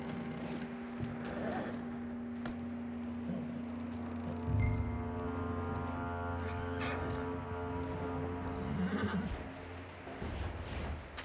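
Horse neighing in the Red Dead Redemption 2 video game, a whinny with snorts and clip-clop hoof sounds set against a steady tonal game hum, with voices faintly present.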